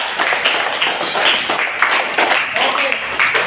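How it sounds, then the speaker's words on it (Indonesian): A sixth-grade class claps in a dense, uneven burst that runs throughout, with a teacher's voice and children's voices mixed into the applause. "Kasih dulu tepuk tangan untuk kita semua."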